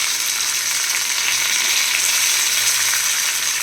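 Curry leaves and asafoetida powder fry in hot oil with a dense, continuous crackling sizzle, close and steady throughout, with no talking.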